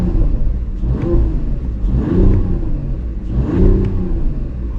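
A 2025 Mercedes-AMG GLE53 hybrid coupe's six-cylinder engine revved in Sport Plus with windows down, three rising-and-falling rev blips in an even rhythm, loud and close, capped near 4,000 rpm.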